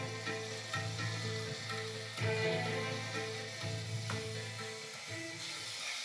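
Sprouted peas frying in a pan with tomato just added, a steady broadband sizzle with a few louder stirring swells, close and moderately quiet, no voices.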